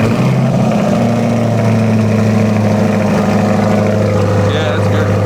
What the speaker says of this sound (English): Should we fire this thing up and hear this titanium exhaust?